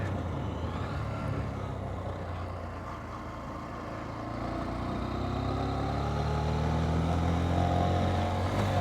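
Honda CB125F motorcycle fitted with a 120cc fuel injector, its single-cylinder engine running smoothly during a ride with steady droning harmonics that build slightly in pitch and loudness toward the end.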